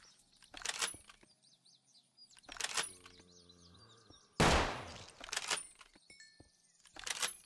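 Gunfire from a Minecraft zombie plague mod, a few sharp isolated shots spaced across the moment, with a loud noisy burst midway, alongside game chirps and tonal effects.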